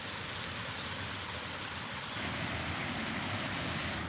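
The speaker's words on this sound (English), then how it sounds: "But that's the waterfall there." A waterfall that drops in three tiers roars in a steady, broadband wash, a dense unbroken rush of falling water that fills the surroundings and swells slightly louder partway through.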